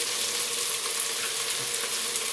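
Green chillies and curry leaves sizzling in hot oil among softened tomatoes for egg biryani, giving a steady, close, hissing fry with no pauses and no voices.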